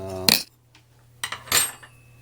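A metal knife and fork clink sharply against parts of a Suzuki or Honda outboard motor's tilt and trim switch, two or three bright metallic taps close by with a low hum in between.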